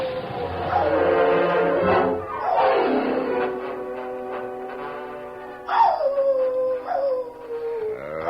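A dog howls and whimpers in a radio drama scene set in a cave, long rising and falling wails repeating close by and loud, with no voices over them.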